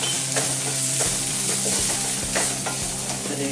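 Onions sizzle steadily in a hot pan, loud and close, while green chili paste and spices are stirred in with repeated scraping of a utensil against the pan.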